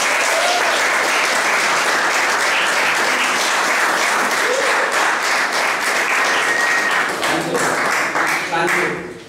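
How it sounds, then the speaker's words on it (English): An audience at a speaking event for a football organizer from Sierra Leone breaks into loud, full applause, dense clapping with crowd voices mixed in, fading only at the very end. "a big round of applause"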